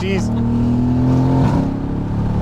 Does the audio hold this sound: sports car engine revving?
yes